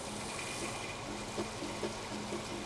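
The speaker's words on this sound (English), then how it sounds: "we can hear it kind of gurgling" Low, muffled gurgling and liquid rush as oil is sucked out of a Mercruiser 502 EFI engine in a 1995 Fountain 24CS boat, steady and quiet with faint bubbling pulses over a constant pump hum.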